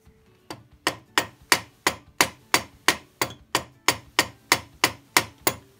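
A hammer taps a vice to square it on a Harbor Freight vertical milling machine: about fourteen sharp, evenly spaced knocks, close and moderately loud, with no voices.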